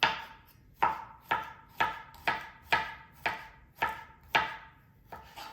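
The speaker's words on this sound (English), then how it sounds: "I'm gonna chop up the garlic here." A knife chops garlic on a cutting board for home-style goulash, about ten crisp, evenly spaced thuds that ring briefly after each strike, close and clear with no voices.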